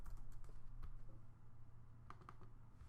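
Typing on a computer keyboard while building an Excel table, heard as a few scattered, faint key clicks over a steady low hum, with no talk.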